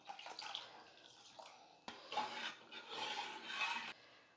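Water is poured into a pot of hotel-style idli sambar made with ground masala, a steady splashing and gurgling in two bursts separated by a brief pause, fairly close and moderately quiet.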